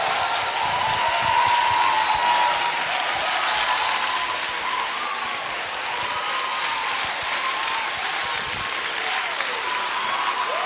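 Steady applause and cheering from a church conference audience, a dense, continuous wash of clapping that fills the room at even loudness throughout, with crowd voices mixed in and no clear break.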